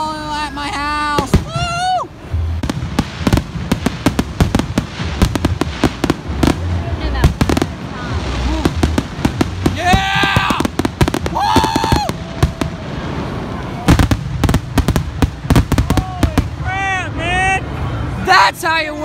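Carnival fireworks show bursting in rapid irregular crackling volleys with booming pops, close and loud, while a crowd cheers, whistles and talks throughout.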